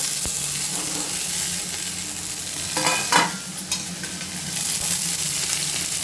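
Chopped vegetables hit a hot pan with garlic and sizzle loudly in a steady hiss, with a brief stirring clatter in the middle.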